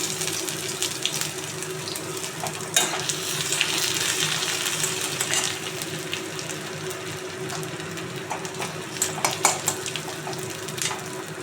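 Chopped ginger fries in oil tempered with whole spices in a pan, a steady sizzle with intermittent scraping and clinks of a spoon stirring, no speech.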